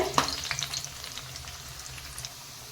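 Bajji fritters fry in hot oil while being turned one by one, a bright steady bubbling sizzle with a couple of clicking touches near the start, fairly quiet and close with no talk.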